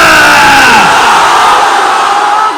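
A large crowd at an outdoor Bangla Islamic waz sermon roars a loud, unified shouted response, the massed voices swelling at once and then slowly tapering off.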